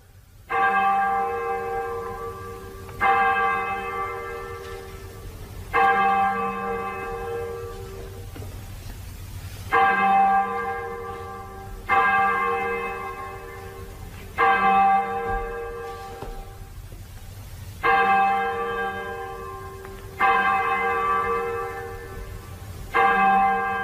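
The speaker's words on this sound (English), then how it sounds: "Hezekiah, sound the 9 tailors." A church bell tolls the nine tailors death knell in slow, evenly spaced strikes roughly every three seconds. Each loud, ringing stroke decays before the next, with no voices.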